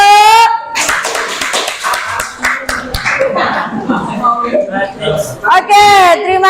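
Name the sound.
audience clapping after a class presentation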